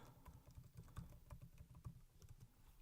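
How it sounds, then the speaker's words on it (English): Steady typing on a computer keyboard, a quick uneven patter of soft key clicks, close but faint, with no talk. "You can hear the secret of me typing away"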